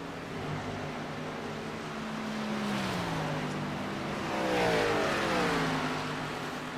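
A sim racing car lapping Kentucky Speedway alone on track, its engine droning steadily with pitch sweeping up and down as it accelerates through the corners, fairly close.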